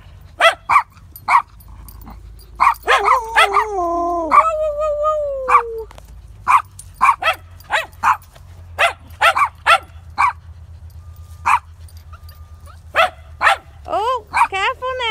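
A puppy barks in short, sharp yips repeated at irregular intervals, close by, while someone talks warmly over and between the barks and there are a few higher whining sounds.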